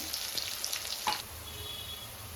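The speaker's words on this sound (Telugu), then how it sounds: "ఇప్పుడు చికెన్ పీసెస్ అయితే వేసుకున్నాము కొంచెం ఫ్రై అవ్వాలి" King chicken pieces fry with onions in a kadai for kadai chicken biryani, a quiet continuous sizzle with a few light clinks of a spatula early on, close by.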